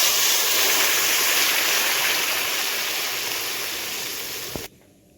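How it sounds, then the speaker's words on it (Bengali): Water is poured into a pan of fried vegetables, giving a loud, steady sizzling hiss up close that fades a little and stops abruptly near the end, with no talking. "এখন জল দিয়ে দিচ্ছি পরিমাণ মতো"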